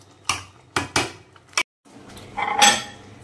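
A metal spoon clinks and scrapes against a pan as ghee is added to a curry: four sharp clanks close together, a brief pause, then softer scraping and rattling with one brighter clink near the end.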